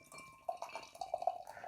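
Stout beer, a barrel-aged coffee pumpkin stout, poured into a pumpkin glass: short splashing and trickling liquid with a few bright glassy clinks, close and fairly quiet, with no talk.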